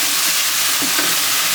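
A seasoned cabbage stir fry with pepper and coarse salt is stirred in a pan, giving a steady, close hiss of frying with a couple of soft scrapes near the end, and no voices.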